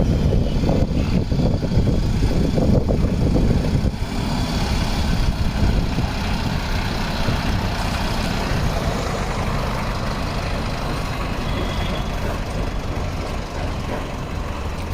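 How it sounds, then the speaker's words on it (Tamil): Two Massey Ferguson 254 DI 4WD tractors idle nearby with a steady, low diesel rumble that stays even and continuous, with no talk over it. "2 டிராக்டர்ஸும் கிளம்புதுங்க."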